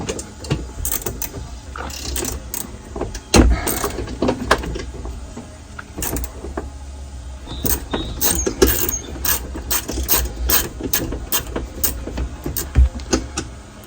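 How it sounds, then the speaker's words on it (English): A swivel head ratchet works a hard-to-reach bolt behind the brake pedal of a Ford Bronco, giving irregular close clicks and metallic knocks amid cramped rustling and clatter. "It's hard to get to the bolt on the back side of this brake pedal because it's like tucked behind a bracket. So I'm having to use a swivel head."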